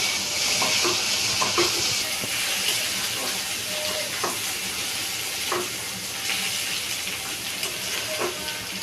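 Tomato goes into a pan of onions fried until red, setting off a loud, steady sizzle and hiss with scattered stirring clicks and scrapes.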